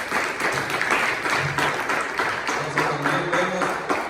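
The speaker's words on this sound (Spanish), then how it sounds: "Denle un fuerte aplauso." A church congregation gives a hearty round of clapping, dense and sustained, with some indistinct voices and a low hum mixed underneath.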